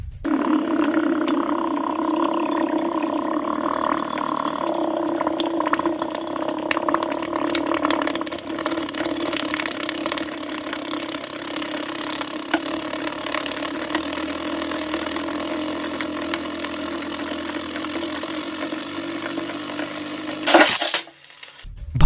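Eggs collected together in a glass are heated, producing a steady bubbling, hissing roar that continues for a long stretch before a sudden sharp crack as the glass bursts near the end.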